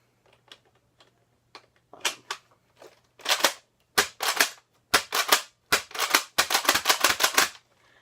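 A Nerf Fortnite suppressed pistol being handled and fired indoors: sharp plastic clicks and snapping pops, sparse at first, then coming in quick, close clusters toward the end.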